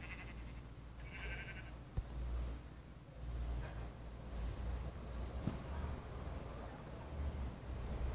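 Sheep in the Minecraft video game give a few short bleats over a soft outdoor ambience with faint insect-like chirping and occasional small clicks.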